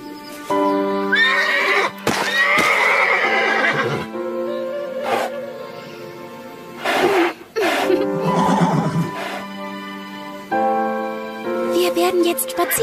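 A cartoon horse neighs and whinnies loudly several times while being ridden, with clip-clop of hooves mixed in under the calls.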